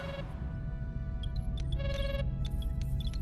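An incoming call ringing in the Star Trek: Voyager – Across the Unknown video game, a repeated electronic chime with bright high beeps over a low steady hum of ambient game sound.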